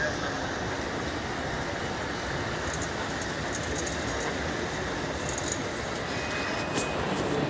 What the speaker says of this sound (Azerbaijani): metroya girirəm